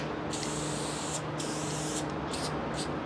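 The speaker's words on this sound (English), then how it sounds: "All right, test spray." Several short hissing bursts from an ACME spray paint can, close by and loud. Two longer sprays come first, then two quick ones.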